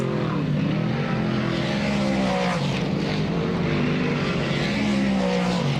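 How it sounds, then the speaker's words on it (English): Late model race cars in a World of Outlaws Late Model Series race at Georgetown Speedway roar together as a loud, continuous, droning engine howl. Its pitch shifts slightly as the cars pass. "Ryan Krachin at the Farino Contracting, car number 29, as we go green"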